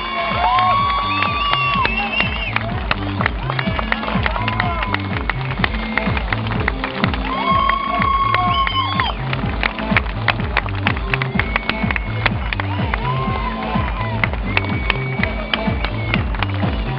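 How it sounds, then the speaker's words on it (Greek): At the Rally Acropolis 2011 award ceremony, a large outdoor crowd cheers and whoops for a winning driver standing on a Citroën DS3 WRC. The sound is loud and sustained, with high whistles and shouts rising throughout. "Ο Σεβαστιάνος Γκέ έρχεται για να απολαύσει το χειροκρότημά σας."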